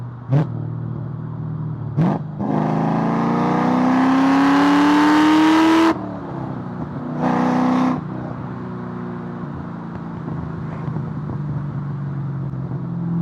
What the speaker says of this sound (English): Wide open throttle still sounds exactly the same.